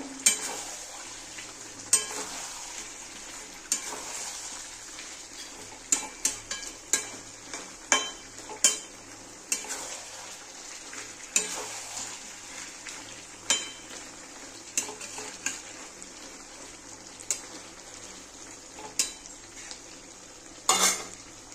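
Chicken curry with potato is stir-fried in a pan under a constant sizzle, with repeated clanks and scrapes of a metal spoon against the pan, close and busy throughout.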